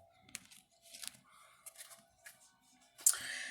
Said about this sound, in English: let me go ahead and cut the deck and see what intuitive messages are coming across